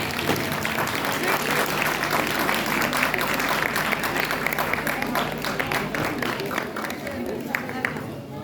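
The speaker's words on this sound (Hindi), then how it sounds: "एक बार जोरदार तालियां हमारे प्राचार्य डॉक्टर राकेश सर के लिए।" A college welcome-party audience applauds their principal, Dr. Rakesh, with loud, dense, sustained clapping filling the hall, voices mixed in beneath it as it carries on steadily before easing toward the end.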